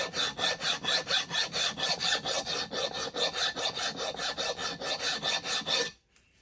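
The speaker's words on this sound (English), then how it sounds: "see what this looks like after a little bit of filing" A hand file scrapes across the cast head of a 3 hp Worthington Ingeco engine in steady, rhythmic strokes, roughly two per second, close and clear, ending with a sudden stop.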